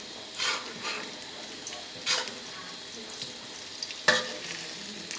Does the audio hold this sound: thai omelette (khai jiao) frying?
yes